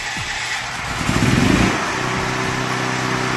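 A Westinghouse portable generator cranks and fires up, a brief rough burst of engine noise settling into a steady running drone close by.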